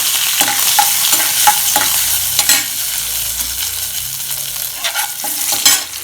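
Chana dal and curry leaves fry in a pan for a radish stir-fry, with a loud, close, continuous sizzle and scraping strokes of stirring throughout.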